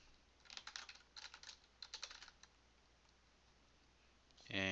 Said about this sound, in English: we're gonna type a text